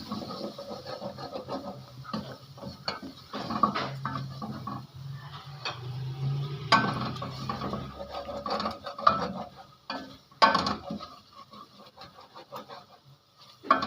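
A spoon stirs eggs and onion quickly in a pan, giving rapid, uneven clinks and scrapes against the metal, with louder clatters near the end.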